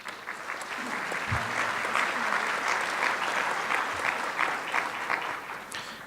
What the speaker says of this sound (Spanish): Recibámoslos con un caluroso aplauso.